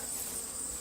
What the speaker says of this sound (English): being this close to a swarm of bees